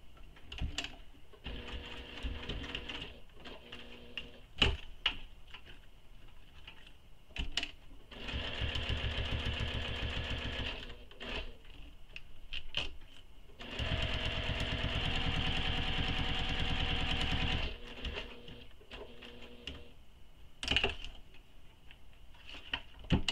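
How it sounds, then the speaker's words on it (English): A sewing machine stitches along the side and top edge of a nylon Prada Re-Edition-style bag, running in two sustained, steady bursts of rapid mechanical whirring separated by quieter pauses, with no talking. "Now we need to stitch up the side across this top edge and back down the other side."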